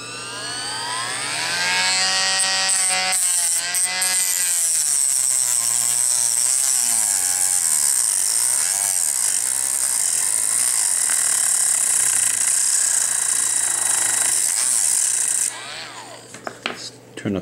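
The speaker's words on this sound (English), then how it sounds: "So I'm just going to take a Dremel and make with a Dremeling," A Dremel rotary tool grinds down small corner pieces of a mini cube illusion puzzle, a loud continuous high-pitched whine that revs up at the start, holds for about thirteen seconds, then cuts off with a few clicks.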